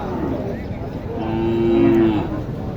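A cow at a village cattle market in Naogaon lets out a long, loud, close moo that swells and then fades, over the hum of the busy market.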